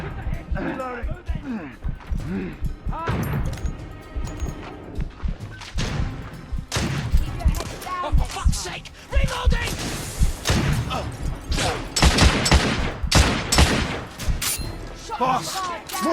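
Gunfire in the video game The Order: 1886, loud bursts of shots and heavy thumps coming in irregular clusters, with shouted voices over the top.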